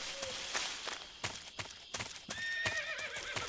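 A horse in Metal Gear Solid 3 whinnies over a run of hollow hoof clip-clops, the neigh rising near the end of a short burst.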